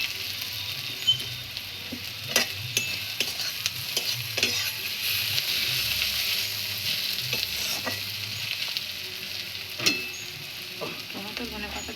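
Tomatoes frying in a pan while being stirred, with a steady close sizzle broken by frequent scraping and clacking from the stirring utensil, and no voices.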